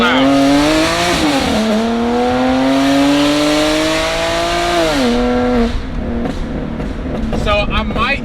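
BMW E90 328i with the N52 inline-six and modified exhaust, a loud, raspy engine note that rises and falls as it revs up and settles, close and dominant, with talk over it near the end.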